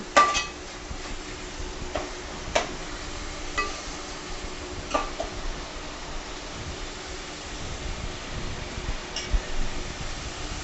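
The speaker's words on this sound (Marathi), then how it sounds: "फास्ट फ्लेमवर 2 ते 3 मिनिट परतून घ्या." Chopped tomatoes and mutton kheema sauté over a high flame, making a quiet, steady sizzle broken by scattered clinks and scrapes of a spoon against the pan.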